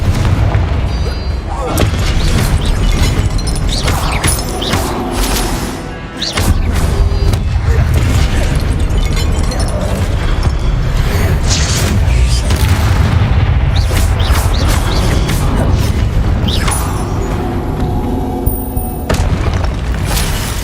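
Repeated booming Confringo explosion spells going off in Hogwarts Legacy combat, heavy low thuds and blasts crowding together loudly over dense game action, with a voice calling out spells between them.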